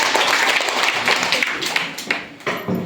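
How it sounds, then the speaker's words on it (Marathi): Primary school children at a quiz applauding a classmate, a lively round of uneven clapping from many small hands that thins out and drops near the end before a few last claps. "रुपालीसाठी सगळ्यांनी टाळ्या"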